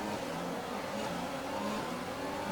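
Formula 1 cars launching off the grid at the start of the Italian Grand Prix at Monza in a racing video game, a steady loud blend of revving engines and whirring mechanical noise with no talk.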